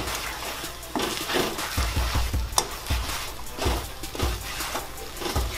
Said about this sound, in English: Then I'm gonna start moving the eggs around.